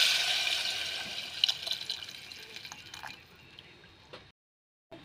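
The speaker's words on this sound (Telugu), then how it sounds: "చింతపులుసు వేసుకుంటాను." Tamarind juice poured into a pan of simmering fish curry, a steady close liquid splash and trickle with small drips, tapering off before a brief silence near the end.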